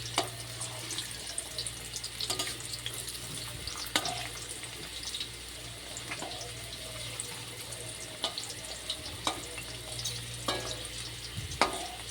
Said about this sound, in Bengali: তো এদিকে আলুটা ভাজা প্রায় হয়ে গেছে, এবার তুলে নেব।